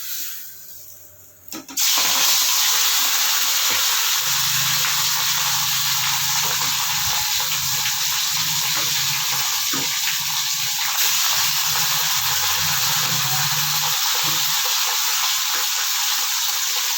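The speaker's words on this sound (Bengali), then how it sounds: "এবার মাছগুলো একটু ভেজে নেবো ভালো করে" Hilsa fish pieces fry in hot oil, a loud, steady hissing sizzle that bursts in suddenly after a brief quieter start and holds with faint stirring clicks.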